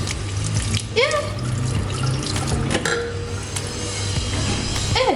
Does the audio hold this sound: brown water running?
yes